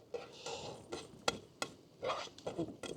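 Chopped garlic, onion and pepper tipped into a small camping pan at a wild camp, giving quiet scrapes and a few sharp metallic clicks and knocks, with soft rustling between them and nobody speaking.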